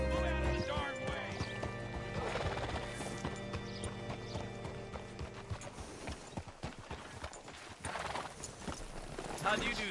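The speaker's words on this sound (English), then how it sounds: "Hitch your horse up here." Horse hooves clip-clop steadily in a PS4 video game, with an occasional neigh, under game music and character dialogue.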